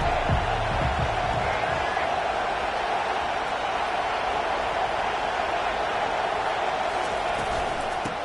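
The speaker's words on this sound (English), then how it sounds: "This crowd trying to show them what it's going to be like all day in this house." Stadium crowd at a football game roaring in a steady, dense wall of cheering and noise that fills the whole stretch without a break.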